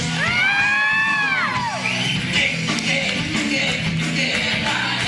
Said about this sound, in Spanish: La gente gritó.